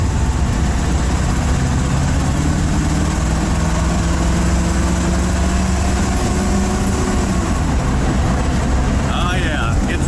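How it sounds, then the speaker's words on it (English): A 1931 Ford Model A Roadster engine drones steadily and loudly while driving, a constant low rumble with faint rising gear whine heard through an open window; brief speech near the end. "Old car sounds real good."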